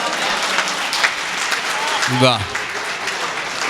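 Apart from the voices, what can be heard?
audience applause at a mushaira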